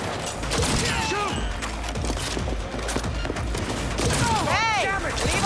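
Sustained automatic gunfire in the video game Cyberpunk 2077, dense overlapping shots and mechanical clatter under game effects, loud and continuous, with brief shouted voices mixed in.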